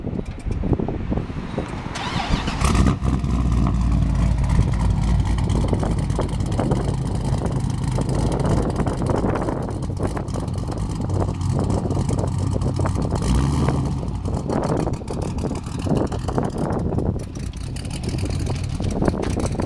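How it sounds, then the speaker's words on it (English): LS6-powered Datsun 510 with an aggressive cam roars through a burnout with sustained high revs and a harsh exhaust note, then surges away, loud and close for the full stretch. "We have a Ls6 cammed Datsun 510."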